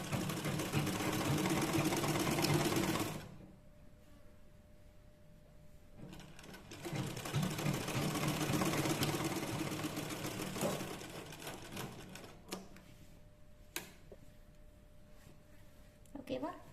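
Sewing machine stitching fabric for a top, bursts of fast rhythmic needle whirring that start, stop and restart with quiet gaps between, while someone talks throughout.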